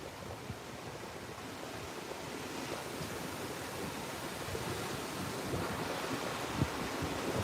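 Small Gulf of Mexico surf washing ashore at Padre Island, Texas, a steady low rush of breaking water with soft wind noise and a slight build toward the end.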